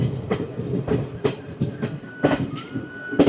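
A short-route train on the Tinpahar–Rajmahal line enters Rajmahal station with a rhythmic clickety-clack of wheels over rail joints, repeated beats under a steady rolling rumble and a faint thin tone near the end.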